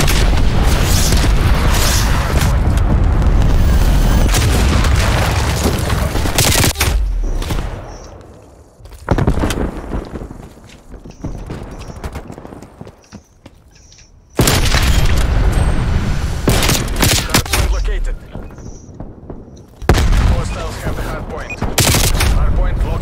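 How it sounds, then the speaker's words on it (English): Repeated booming cruise missile explosions and heavy gunfire in a Call of Duty: Cold War match, loud and sustained with sharp bursts, a quieter lull in the middle and then renewed blasts. "Cruise missile inbound."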